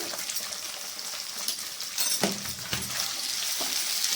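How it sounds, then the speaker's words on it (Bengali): Sliced onion and green chilies stirred in a frying pan for a chili paneer dish, a steady sizzle with occasional scraping and clinks of the spatula against the pan, close and without talk. "পাঁচ ছ সেকেন্ডের মতন নেড়ে নিলাম পেঁয়াজটাকে"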